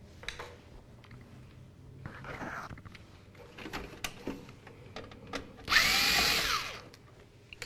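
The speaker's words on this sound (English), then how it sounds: "I'm removing the screws that secure the motherboard into position." Screws holding a computer motherboard are taken out with a small powered screwdriver, giving scattered clicks and taps, then one louder whirring burst of about a second near the end.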